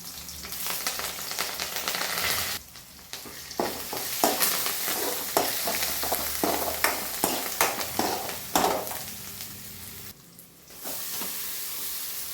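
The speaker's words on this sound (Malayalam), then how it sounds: "ചീനച്ചട്ടി വെച്ചു എണ്ണ ഒഴിച്ചു കടുകിട്ടു ചതച്ചിട്ട് എല്ലാം കൂടെ ഇട്ടൊന്ന് സൂട്ട് ചെയ്യാം" Mustard seeds and crushed spices such as black pepper, garlic and curry leaves sauté in hot oil in a cheenachatti pan, with a loud, close sizzle, crackling pops and stirring scrapes, briefly dropping quiet twice.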